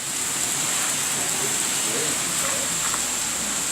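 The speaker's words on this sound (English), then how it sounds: "The rain is coming down hard." Heavy rain pours steadily during a severe thunderstorm in the Bronx, New York City, a dense, constant hiss with no gaps, loud and close throughout.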